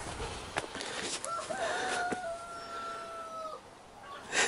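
A rooster held before a cockfight lets out one long, drawn-out crow, close and clear against light background noise, with no voices.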